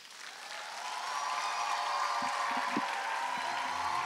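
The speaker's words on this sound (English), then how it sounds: "Let's give him another warm round of applause." Audience at the 2019 South-East Asia Peace Forum breaks into applause after a speech, the clapping swelling from moderate to a full, steady wash that carries on evenly with a few faint voices beneath.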